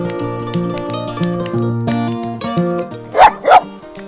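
A large dog behind a fence gives two quick, loud barks near the end, close by, over steady music that runs throughout.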